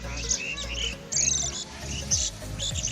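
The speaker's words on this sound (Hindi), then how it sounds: "मेरी टाँग पे चिड़िया उड़ रही" A small bird chirps close by outdoors with a series of bright, quick tweets, several in a row, over a steady low background rumble.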